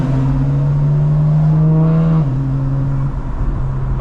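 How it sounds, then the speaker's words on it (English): 2025 BMW M4 Competition engine and exhaust with burbles off, a loud steady drone that rises slightly then drops as the revs fall, close and continuous with no talk. "Car sounds so good with the burbles off"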